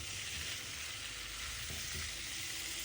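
Pork pepper fry sizzles steadily in a pan, a dense, constant hiss with a few soft scraping stirs near the middle.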